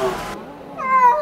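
Rescued former stray cats meowing up close, two short, loud meows separated by a brief pause.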